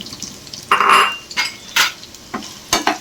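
Curry leaves and raw mango pieces tossed in oil in a pan, heard as a few sharp spoon-on-pan clinks and scrapes with one brief sizzling burst, close and moderately loud.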